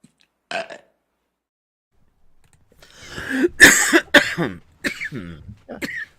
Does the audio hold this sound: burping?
yes